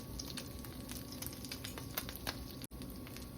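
Onions frying in oil in a pan just used for frying fish, a steady dense sizzle with crackling spatters throughout and one brief dropout.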